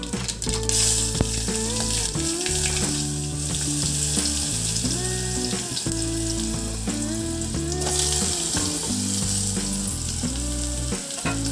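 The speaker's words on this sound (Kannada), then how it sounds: "ಇದು ಚಟಪಟ ಅಂದ್ಕೊಂಡೇ ನಾವು ಈ ಕಾಯಿ ಹೆಚ್ಚಿಟ್ಕೊಂಡಿದ್ವಲ್ಲ ಇವನ್ನ ಇದರಲ್ಲಿ ಹಾಕಬೇಕು" Chopped vegetables hit hot oil with spluttering mustard seeds for a buttermilk dish, producing a loud, continuous sizzle and crackle over a steady tonal background that sounds like music.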